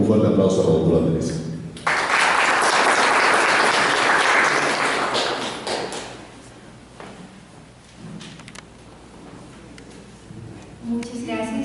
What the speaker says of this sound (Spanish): Vamos a recibirlos entonces con un fuerte aplauso a la doctora Teresa.